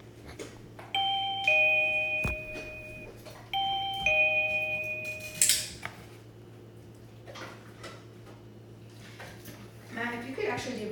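A household doorbell chimes twice in succession, each ring a bright multi-tone ding-dong, with voices and some light clatter and shuffling around it.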